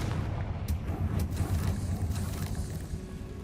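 A Confringo fire spell explodes in Hogwarts Legacy on Hard difficulty, a dense, rumbling blast with sharp cracks layered over a steady low roar of game sound.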